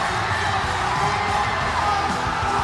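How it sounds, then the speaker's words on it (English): A large esports arena crowd at a Mobile Legends MSC 2023 group-stage match roars and cheers, a loud, dense, sustained wash of voices with no pauses. "Hear the crowd roar."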